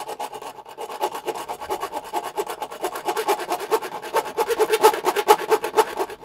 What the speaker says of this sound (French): Et après on prend une petite scie à métaux.